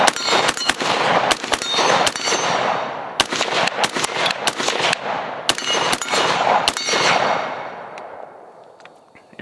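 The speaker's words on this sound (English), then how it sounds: "let's go ahead and send some rounds, because this thing is a lot of fun to shoot." Rifle rounds from an ACR fitted with a prism scope, fired outdoors as a rapid string of loud, sharp cracks in quick irregular bursts, each with a metallic ring, fading near the end.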